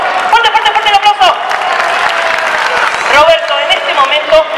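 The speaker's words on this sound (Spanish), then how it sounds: "¡Fuerte, fuerte, fuerte el aplauso!" Circus audience applauding for a participant called up to the ring, a dense steady clatter of clapping running throughout with a presenter's voice speaking loudly over it.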